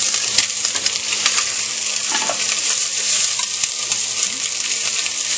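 Italian sausage fries in a pan over a raised flame, a loud, constant close-up sizzle with scattered crackles and pops, heard alone.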